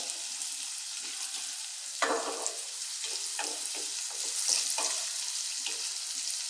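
Onion and tomato sizzle steadily in a pan while a spoon scrapes and stirs in repeated short strokes, close and clear with no voices.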